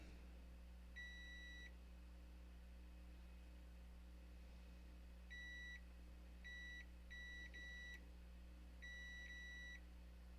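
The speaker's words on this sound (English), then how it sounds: "Put the meter in beep mode." A multimeter set to continuity mode beeps while a Honda ABS module is being repaired. One long tone is followed by a cluster of short and medium beeps, clear and close over a low steady hum.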